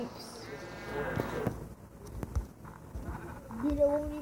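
Sheep bleat in a video game in a short, slightly synthetic burst, with a second bleat near the end, while people chat over the top.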